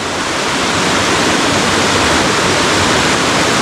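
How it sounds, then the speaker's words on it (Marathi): Loud, close rushing stream water roars continuously, a milky stream in spate carrying pieces of wood, a dense broadband wash with no voices. "इकडे पाण्याचा आवाज भरपूर आहे"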